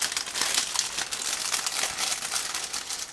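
Crinkly plastic bag being opened and handled to reach the parts of a 1/72 scale IBG PZL.37B Łoś model kit, a steady run of close crackling and crumpling with no voices.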